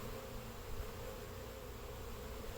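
Honey bees at a hive hum in a dense, continuous buzz that stays steady and fairly close, with no voices over it.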